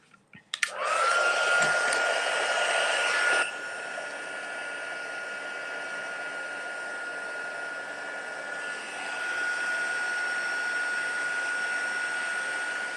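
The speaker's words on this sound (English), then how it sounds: "once the heat gun gets hot, because of doing so many layers of the embossing powder, it starts to turn very quickly" A heat gun blasts steadily while melting many layers of embossing powder for a cracked-glass effect, a loud continuous airy roar with a rising whine at the start that settles into a constant hum, slightly changing tone near the end.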